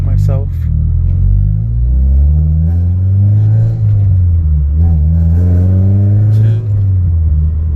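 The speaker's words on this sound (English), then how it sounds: "we're gonna do a little third gear pull right now" A tuned car's engine pulls hard through third gear, a loud close rumble whose pitch climbs steadily with a brief dip partway as revs build, with a voice speaking over it.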